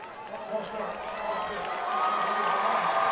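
The Jenks side of a high school football crowd at the Cotton Bowl raises a broad, building roar of cheering, distant and steady, with an announcer talking over it.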